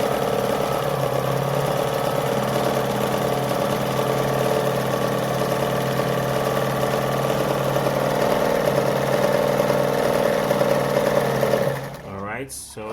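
A Jones model 556 sewing machine stitches a design on fabric with a steady, continuous motorised hum and rapid needle rhythm, close and even for most of the time before stopping near the end, with talk over it.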